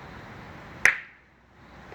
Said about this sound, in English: it's a guy in the background playing croquet.